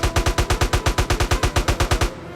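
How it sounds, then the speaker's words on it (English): Rapid automatic fire from a Draco AK pistol in a video game roleplay server, about eighteen evenly spaced loud shots in a fast steady burst lasting two seconds, then a brief fading tail. "This is the Draco that everybody always wants to have, but nobody knows how to shoot."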